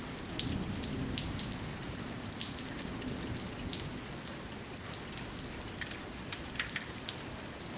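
Rain patters steadily with dense, crisp droplet ticks on surfaces outdoors, constant and moderately quiet throughout, with no voices.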